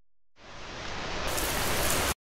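A heavy rain shower in an advertisement for premium pipes, fittings and water tanks builds into a loud, dense, steady roar of downpour, then cuts off abruptly.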